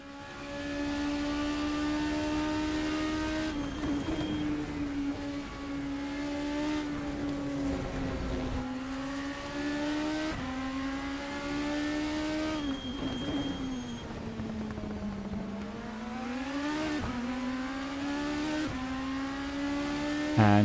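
Super Formula single-seater race cars screaming around the Motegi circuit, a loud continuous high-revving engine wail rising and falling through gear changes and corners, with several cars passing close, no talking.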